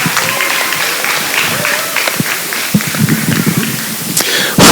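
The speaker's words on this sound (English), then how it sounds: "Let's give them one more big round of applause." An audience claps for youth showmanship exhibitors at a spring livestock show, scattered, uneven applause with sharp individual claps and some crowd noise, ending in a brief louder burst.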